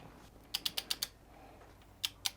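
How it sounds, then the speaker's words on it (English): A torque wrench tightens bolts on a Ford 302 engine, giving a quick run of five sharp ratcheting clicks, a pause, then three more, close up in a quiet space. "I'm just going to tighten them up with the torque"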